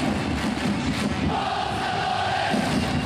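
A huge stadium crowd of about 40,000 supporters roars continuously inside the Sapporo Dome, a dense, steady wall of cheering with rising chants and no break.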